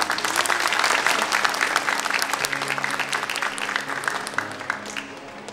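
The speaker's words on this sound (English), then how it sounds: "Please give him a big round of applause." Applause from a conference audience at COP28 following a keynote introduction, sustained dense clapping from a sizable crowd that stays fairly even and tapers slightly toward the end, with faint murmuring beneath.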